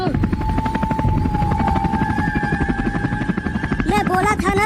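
Loud, steady helicopter rotor chop with a rapid pulsing beat, close by, at a water park, with speaking voices over it and tonal squeals near the end.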